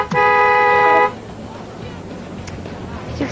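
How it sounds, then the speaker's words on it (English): A loud car horn blares in one sustained honk of about a second, then gives way to a low background rumble with faint voices. "if you honk that horn at me one more time"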